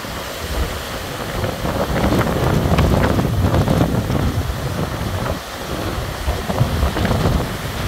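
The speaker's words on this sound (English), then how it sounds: "A little windy out here." Strong wind buffets the microphone in a steady, rumbling roar with gusty swells throughout, outdoors and without any talking.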